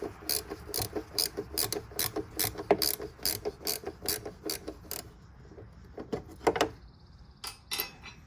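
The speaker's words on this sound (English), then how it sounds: "I have a ratcheting wrench that hopefully I can get in there" Ratcheting wrench loosening the battery bolt on a C4 Corvette, a close, steady run of rapid clicking bursts in quick rhythm, pausing briefly before a few final clicks.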